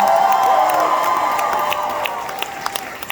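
A rock concert crowd at a music hall cheers loudly, a burst of shouts and whoops that gradually fades out, with a few scattered claps near the end.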